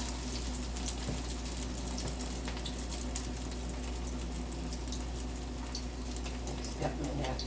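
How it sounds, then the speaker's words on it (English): Mackerel patties frying in hot oil give a steady, close sizzle, a continuous hiss sprinkled with small pops and crackles. "expect for a sizzle."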